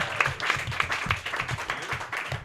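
An audience at a New York roast battle comedy show claps and applauds, a dense, lively burst of hand claps that stays fairly even throughout, close and continuous with no speech over it.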